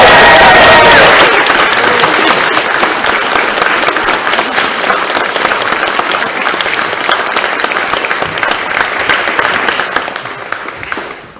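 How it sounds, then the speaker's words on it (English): Wedding guests applaud and cheer for the newly married couple, Alistair Stewart and Ashleigh Norrie, in a loud, dense burst of clapping that holds steady for about ten seconds before tapering off. "everyone will want to give you their warmest congratulations, even a cheer"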